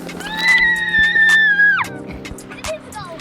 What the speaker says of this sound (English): Lots of screaming.